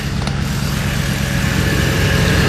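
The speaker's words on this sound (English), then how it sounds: "the engine is running" A car with an overheating problem idles up close, giving a steady, loud, even engine drone with a fan or AC hum layered over it, and no talking.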